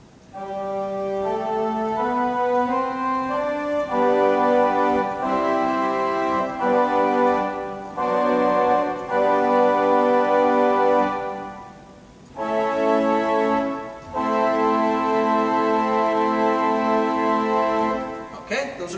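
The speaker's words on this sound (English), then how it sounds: "Now the stringed pipes sound something like this." Pipe organ string pipes sounding alone: thin, bright sustained chords and held notes moving in phrases, with short pauses between them and a fairly loud, even tone throughout.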